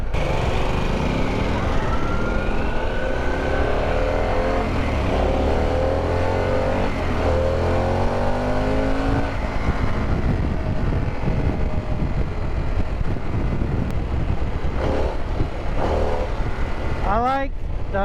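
A Harley-Davidson Pan America adventure motorcycle's engine runs continuously while riding on the road, with rising and falling revs as gears change, mixed with heavy wind rush and a rider talking over it.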